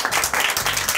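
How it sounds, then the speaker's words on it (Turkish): Brief burst of applause from a small group of contestants and hosts, dense close clapping lasting only a moment. "Bütün yarışmacılarımıza bir alkış alalım."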